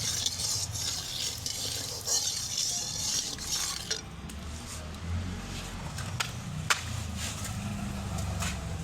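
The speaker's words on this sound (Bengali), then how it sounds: "এক এক করে মাছের পিসগুলো ভেজে নেব।" Silver carp fish pieces fry in salted oil in a pan, a soft continuous sizzle with scattered crackles and a few metallic clinks of a utensil against cookware.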